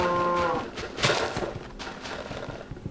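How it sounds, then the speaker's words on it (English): A cow in the Minecraft video game moos with a low, drawn-out bovine call, close and fairly loud, followed by soft game thumps and footsteps. "Get out of my way, you dumb cow."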